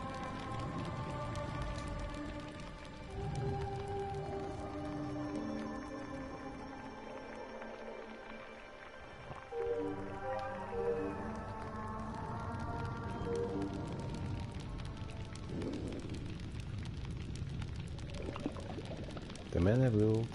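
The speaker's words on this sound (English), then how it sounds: "As the rain tumbles heavily over them" Heavy rain falls in the PS4 game Burly Men at Sea, a continuous wash of downpour under a soft musical score and narration.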